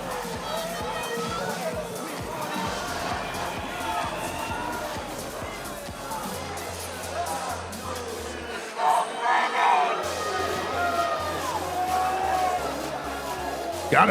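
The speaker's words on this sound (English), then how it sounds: "Let the crowd boo all they want" A crowd at an MCF Nebraska pro heavyweight MMA event boos with a sustained, rowdy roar. Voices rise and fall across it, and a commentator talks over the noise.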